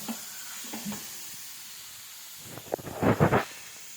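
Sheep blood fries in a pan, a low sizzle and hiss that swells into louder bursts of spattering toward the end, with no talking.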